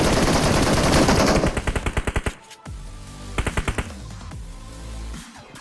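Covering gunfire rattles in a shooter video game: a long, loud burst of rapid automatic fire, then short staccato volleys of distinct shots with brief gaps between.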